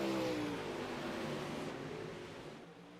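UMP modified race cars roaring around the dirt track at Eldora on the final lap, a loud, steady engine drone that slowly fades as the pack moves away.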